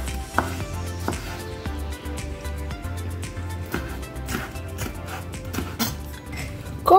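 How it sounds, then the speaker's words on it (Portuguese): A knife chops tomato into small cubes on a cutting board, giving a quick, regular series of close, crisp taps with no talking. "Vou cortar o tomate em cubinhos."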